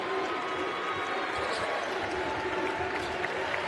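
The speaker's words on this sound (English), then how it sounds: "Louisville fans in red across the way, on their feet, clapping." Louisville basketball fans in red standing and clapping in an arena at the end of a road win, a dense, steady wash of crowd applause under a commentator's voice.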